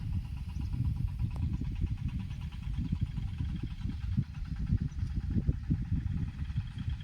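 Tractors working in nearby farm fields in Gujarat give off a steady, low mid-range engine drone, like idling machinery, holding a constant level throughout without any talk.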